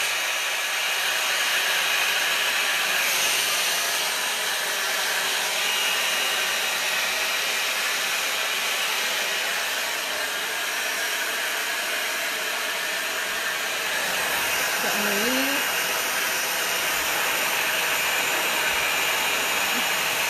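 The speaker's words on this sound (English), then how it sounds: "I'm going to quickly blow dry my hair" A hair dryer on a warm setting blows steadily while drying hair, a loud continuous whooshing hiss that runs the whole time, briefly dipping and shifting near the middle before resuming at full strength.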